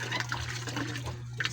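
Water is pumped into a barrel, a steady splashing, gurgling stream running continuously at close range over a low constant hum from the pump, with no talking.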